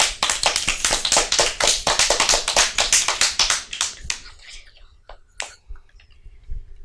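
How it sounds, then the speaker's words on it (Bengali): Audience clapping for a young singer on a Bengali TV show, a burst of brisk, fairly close claps that thins out into a few scattered claps and taps before falling quiet. "তাই কৃতিকার জন্য জোরে হাততালি হোক"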